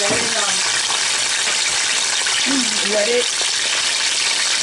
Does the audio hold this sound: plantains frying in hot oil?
yes